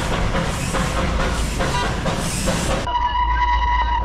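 Darjeeling steam toy train running, a loud, steady, close rumble of wheels and carriages that cuts abruptly near the end into a smoother, humming tone.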